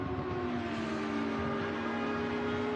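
Race cars lapping the Kyalami circuit: a steady, fairly faint engine drone that holds a sustained pitch with slight rises, continuous with no voices.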